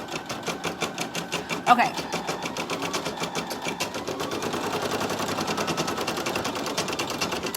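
A sewing machine stitches in a steady, rapid mechanical patter that runs the whole time, with a person talking over it and a brief knock near the start.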